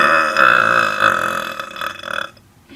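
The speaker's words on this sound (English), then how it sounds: "I'm only going to burp a couple more times" A person in a room lets out one long, loud, drawn-out burp. It pulses a few times as it rolls on, then ends abruptly in quiet.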